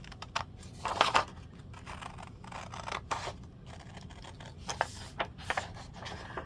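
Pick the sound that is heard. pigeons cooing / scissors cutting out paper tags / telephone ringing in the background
scissors cutting out paper tags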